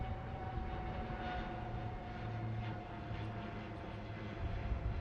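Naval aircraft formation making a fly-past over the sail parade at Miramar, Panaji, Goa: a steady, continuous engine drone, moderately loud and sustained throughout with no talk.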